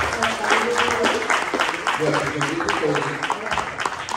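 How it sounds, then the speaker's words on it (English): Audience applause at a congressional candidates' forum, a steady wash of many hands clapping at moderate volume with voices talking over it. "Let's give them all a round of applause."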